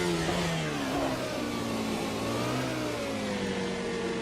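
Race car engine in a sim racing game revving high toward 19,000 RPM like a superbike, a steady loud whine with rising and falling pitch as the car accelerates and shifts, with no voices.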